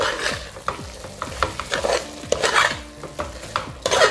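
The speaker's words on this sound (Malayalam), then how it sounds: "അതുവരെ ഒന്ന് മിക്സ് ചെയ്യുക" Chili masala for Andhra mutton curry fries and gets mixed in a hot pan, with a close, loud sizzle and repeated scraping strokes of a spoon in a quick, uneven rhythm.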